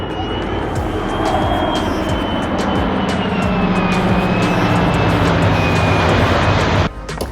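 Aircraft at the EAA AirVenture Oshkosh 2022 Wednesday night air show: a loud, steady broadband engine roar with a thin tone drifting slightly in pitch, holding for about seven seconds before cutting off abruptly.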